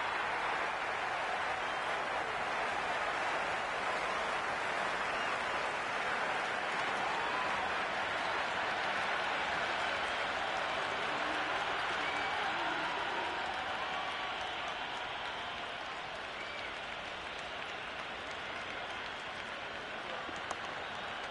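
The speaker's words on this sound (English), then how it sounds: "The crowd is electric right now." Crowd in the cricket video game Cricket 26 roars continuously during a Multan Sultans versus Quetta Gladiators match, a dense, steady wash of cheering and applause that holds at a loud level throughout.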